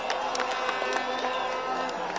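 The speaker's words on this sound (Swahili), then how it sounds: "Tumshangilie Mheshimiwa Rais kwa makofi." A crowd at a Kenyan road launch event at Kamandura, Kiambu County, applauds and cheers for the President, dense clapping with shouts and whoops throughout, voices mixed into the din.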